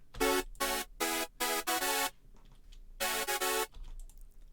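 An EQ'd hardstyle synth lead layer in FL Studio, low end cut and highs boosted, plays bright, thin stabs alone, a quick run of notes, a pause, then a shorter group, with faint tails between them.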